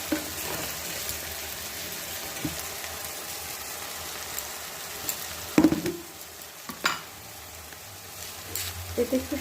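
Ginger, garlic and green chili paste being stirred in a hot pan for chicken kosha, a steady soft sizzle with a few sharper scraping clicks of the spoon against the pan.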